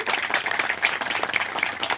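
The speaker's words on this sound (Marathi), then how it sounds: "तर हे जोरदार टाळ्या कोपरगाव साठी वाजवा" A crowd applauding at a celebration in Kopargaon, a short burst of dense clapping with a few sharper individual claps.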